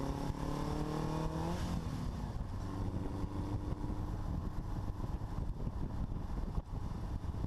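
A Subaru-powered Speedster replica built from a Fiberfab kit pulls uphill in second gear, its engine a steady, loud, throaty drone with rising harmonics early on, continuous under heavy wind rush and no talk.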